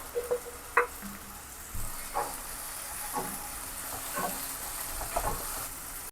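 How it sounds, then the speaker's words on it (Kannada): Finely chopped capsicum being stirred as it fries in a pan for paneer bhurji, a soft sizzle under scattered clinks and scrapes of a spoon, faint and close. "ಕ್ಯಾಪ್ಸಿಕಮ್ ಹಾಕೊಂಡು ಚೆನ್ನಾಗಿ ಮಿಕ್ಸ್ ಮಾಡ್ಕೊಳ್ಳಿ"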